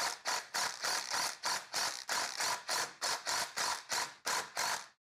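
A ratchet wrench with a 16 mm socket drives a bushing into a GY6 scooter part, giving about a dozen evenly spaced, close ratcheting clicks in quick rhythm with no talk.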